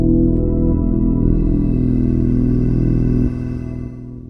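Roland SH-4d synthesizer sequenced by an Arturia Keystep Pro with short gate steps, a sustained droning tone with layered harmonics that holds steadily, then drops in level near the end.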